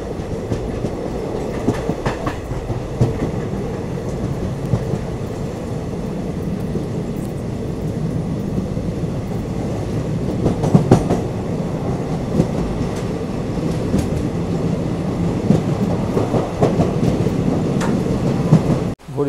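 Steady rumble of a Kolkata-to-Puri passenger train heard from inside the carriage, a continuous dense roar with faint rhythmic clacks and no talking.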